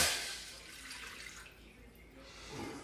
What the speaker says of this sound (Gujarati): આ વાસણ લઈ લીધું આપણે, 1 ગ્લાસ પાણી નાખવાનું.